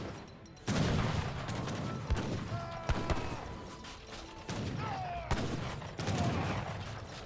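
Volleys of musket fire crackle in the Age of Empires 3 real-time strategy game, bursts of massed shots popping at intervals over a busy layer of battle clatter and mechanical noise, no talking.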